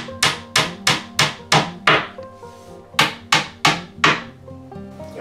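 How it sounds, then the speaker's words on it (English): Small wooden dowels tapped into place to join two units of a ClosetMaid closet organizer: a run of eleven sharp woody knocks in quick groups, close and fairly loud, with a short pause in the middle and no talking. "Connect the two units together, you use some small wooden dowels and just tap them in place."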